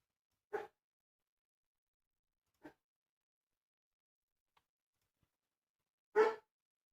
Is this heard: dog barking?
yes